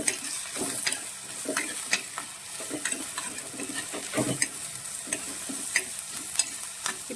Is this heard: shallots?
yes